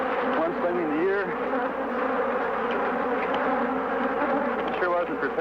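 A swarm of Africanized killer bees buzzes densely and continuously around a beekeeper's veil, close and loud, the wavering drone of many wings filling the air throughout.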